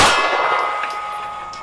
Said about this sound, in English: And the gong.